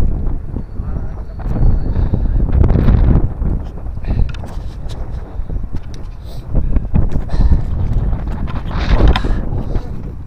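Strong wind gusts roar across the microphone outdoors near a church on a bike ride into a headwind, loud buffeting rumble rising and falling throughout, with a voice speaking under it.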